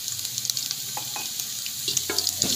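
Ground red chilli, ground coriander and freshly ground chilli hit a hot tempering for saag, giving a steady close sizzle with a few spoon scrapes and splashy bursts toward the end, and no talking.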